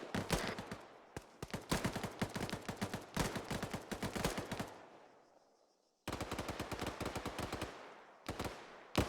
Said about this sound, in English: Still here, he's shooting at me.